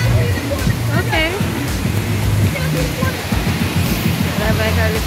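Somerset Falls in Portland, Jamaica, roars steadily and close by, a broad continuous rush of falling water. People talk over it throughout.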